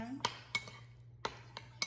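Chicken for shawarma mixed with lemon in a bowl gives sparse metallic clinks and taps of a utensil against the bowl, about five distinct knocks spread unevenly, fairly close and quiet over a low hum.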